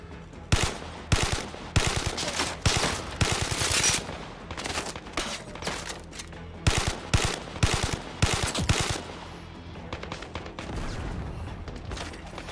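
Rapid automatic gunfire in the video game Zero Caliber, a survival shooter; loud bursts of close shots in quick rhythmic strings with short pauses, fading to a quieter rumble at the end.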